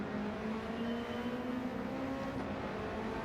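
An Alpine A110 in Gran Turismo 7 idles and revs gently at a steady, partial throttle, a faint, even engine hum that holds constant without any sharp climbs.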